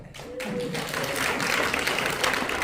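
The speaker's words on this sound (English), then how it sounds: "Please, round of applause." Audience applause for an actor at a community event for World Suicide Prevention Day, a steady wash of clapping that rises quickly and holds for a couple of seconds.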